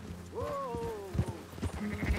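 Sheep bleating in the video game Red Dead Redemption 2, one long wavering bleat followed by a few shorter ones over a busy background of game sounds, fairly close and clear.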